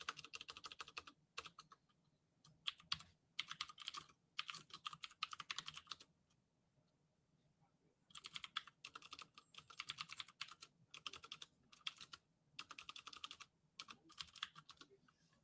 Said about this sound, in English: My keyboard loud enough for you